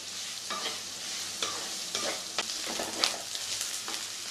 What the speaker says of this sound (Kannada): ಈರುಳ್ಳಿ ಸ್ವಲ್ಪ ಕೆಂಪು ಆಗೋವರೆಗೂ ಹುರಿಯೋಣ.